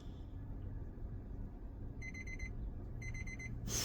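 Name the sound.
timer alarm going off after one minute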